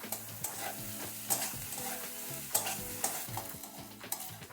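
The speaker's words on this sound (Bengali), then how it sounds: "এখন দিয়ে দেবো পেঁয়াজ কুচি দিয়ে এগুলো একটু লাল করে ভেজে নেব" Chopped onions fry in oil with already-browned garlic and ginger, a soft sizzle under repeated utensil scrapes and knocks against the pan at an uneven rhythm; moderately quiet and close, without speech.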